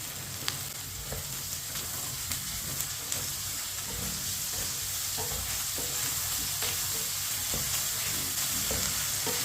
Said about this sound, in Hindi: अदरक और लहसुन को भी मैंने मिक्स कर लिया।